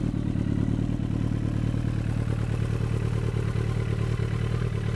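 A 2012 Kawasaki Ninja ZX-14 with a new Yoshimura exhaust idles nearby, a steady, loud, rapid throbbing rumble with a slight clatter and no voices.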